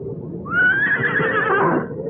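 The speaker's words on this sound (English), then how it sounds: "back to my horse, to my old friend, who stood patiently tethered, waiting for me" A horse whinnies once in a radio drama, a loud, close, quavering neigh lasting over a second, heard alone without speech.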